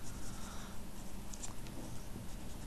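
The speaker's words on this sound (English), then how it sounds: "I'll draw a little setup here." Pencil sketching a futuristic rifle on paper, a steady close scratching stroke running continuously and evenly throughout.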